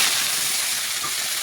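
Bitter gourds dropped into a hot wok greased with ghee give off a steady, loud sizzling hiss that fills the whole moment without a break.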